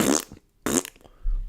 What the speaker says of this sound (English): And fart sounds.